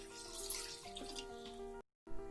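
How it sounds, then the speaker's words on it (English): Tap water pouring into a pan for blanching tomatoes, a close, quiet, steady splashing stream that cuts off briefly near the end before resuming. "Take some water in a pan."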